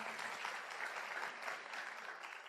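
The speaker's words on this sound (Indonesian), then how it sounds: "Tepuk tangan buat Anda semua." A seminar audience applauds, dense continuous clapping from many hands at moderate distance, fairly soft and steady with no talking over it.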